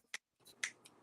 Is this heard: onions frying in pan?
no